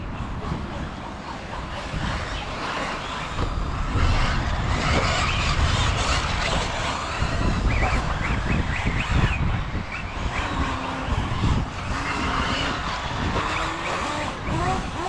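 A Hobbytech 1/8 NXT XR brushless RC buggy drives on loose ground, a dense rushing whir and gravelly crunch of tires that surges and fades steadily throughout, with no voices.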